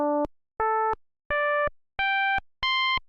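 Five short synthesizer notes played one at a time, each about a third of a second with brief gaps, stepping upward in pitch, clean electronic tone, alone.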